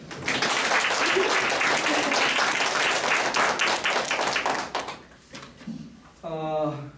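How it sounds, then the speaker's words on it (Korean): An audience in a lecture hall claps loudly and steadily for about five seconds, then the applause fades and a speaker's voice takes over. "그러실 분만 박수 쳐봐요"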